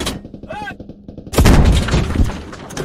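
A loud, sudden blast in the military shooter Squad bursts in midway and rolls into a dense, rumbling roar that lingers to the end, following a stretch of quieter talk and clatter.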